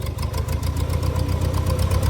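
An old tractor engine idling smoothly and close up, a steady low rhythmic chugging with even, rapid firing pulses, no voices.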